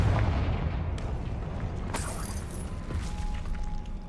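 Confringo spell blast in Hogwarts Legacy, a loud fiery burst over dense low rumbling game noise, with a sharp crack near the middle and a lingering roar after.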